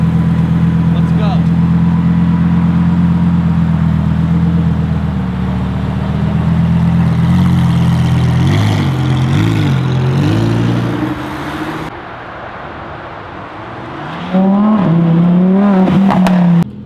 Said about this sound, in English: We're driving the all-new Huracan Tecnica. Very exciting. Sounds incredible.